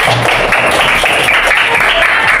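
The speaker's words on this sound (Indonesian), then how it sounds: "Tepuk tangan buat kita semua." Steady applause from a class group fills the whole moment, a dense wash of clapping with no voices over it.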